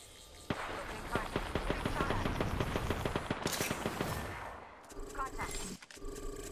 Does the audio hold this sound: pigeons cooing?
no